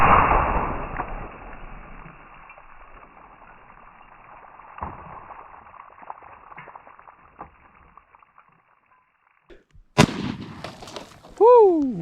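A .300 Savage Model 99 lever-action rifle fires one loud, close blast that fades into a long ringing decay, with a sharp crack and splash-like noises near the end.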